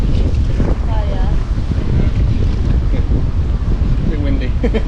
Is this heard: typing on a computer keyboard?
no